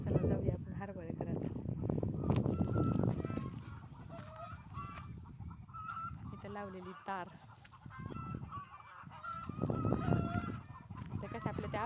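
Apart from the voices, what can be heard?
hens calling loudly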